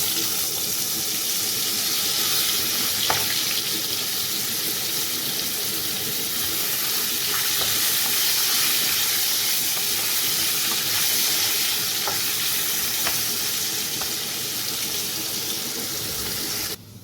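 Steady, dense sizzling of potatoes frying in hot oil with five-spice seeds, continuous and close, with occasional soft clinks and stirring noises, no voices.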